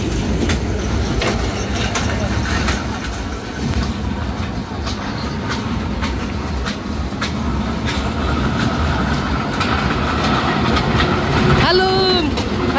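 A small ride train at Golden Park in Narsingdi rolls along with a steady rumbling clatter and rhythmic clicks, fairly loud and close, with a brief whistle-like toot near the end.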